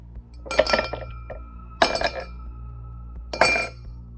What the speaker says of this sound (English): I'm not gonna fill the glass completely with ice, just halfway.